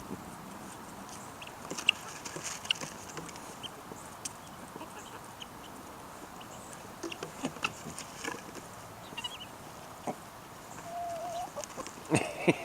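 Hens and a rooster cluck and chatter steadily in a farmyard while feeding after a small ice storm, with scattered nearby calls and a louder burst toward the end, with no talking.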